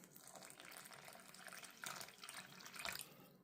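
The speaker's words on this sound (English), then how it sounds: "we're going to pour most of the water in" Water poured into a bowl of flour mixture for homemade flour tortillas, a faint steady trickling and splashing stream with a couple of slightly stronger gushes, no talk.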